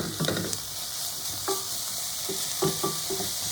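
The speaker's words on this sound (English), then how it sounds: "we're gonna let it cook together with the onions and the garlic." Prosciutto frying in a pan with onions and garlic, a soft continuous sizzle broken by several clicks and scrapes of stirring, close by with no talking.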